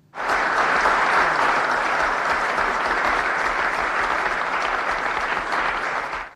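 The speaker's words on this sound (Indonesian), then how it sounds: "Dan Freddy mendapat aplaus dari rekan ilmuwan." Scientists in The Elephant Man break into sustained applause, a dense, loud, even clapping that fills the whole stretch without talk, fading out sharply at the end.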